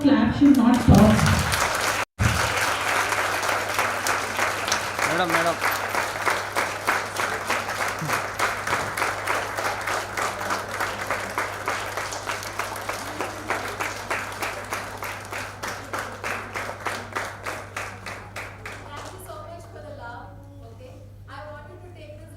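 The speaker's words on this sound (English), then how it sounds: "I hope clap should not stop." An audience at a school faculty development program claps in continuous, even applause after a brief spoken word, gradually fading toward the end.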